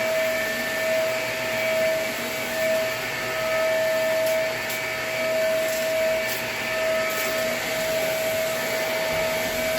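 Vacuum cleaner working over a dirty rug, a loud steady whine with a persistent high tone and gentle swells as the head moves back and forth, plus a few faint clicks, no talking.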